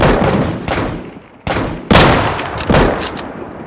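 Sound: gunshots in video game Deadside

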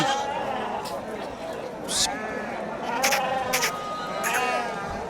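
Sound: goat at a livestock market

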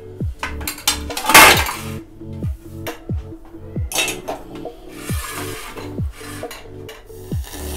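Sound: cooked oats being taken out of the pan onto a plate

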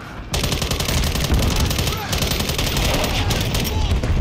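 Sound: gunfire in the video game Call of Duty Modern Warfare III

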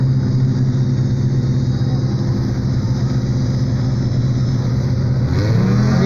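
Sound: short course off-road race cars revving at the start

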